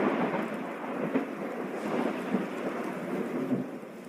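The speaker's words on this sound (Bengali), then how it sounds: "আর ঠিক সেই মুহূর্তেই বিকট শব্দে আর একটা বাজ পড়ল" Heavy rain pours down in a steady, dense hiss during a storm, with low thunder rumbles swelling through it and a few sharper cracks; no voices.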